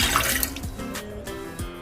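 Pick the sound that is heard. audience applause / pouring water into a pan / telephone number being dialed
pouring water into a pan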